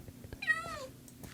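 A Minecraft cat gives a single short, clear meow, quiet and close against a soft background of faint clicks.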